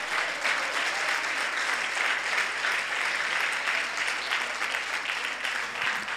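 Loud, sustained applause from a large church congregation, dense and even clapping continuing throughout without any talk.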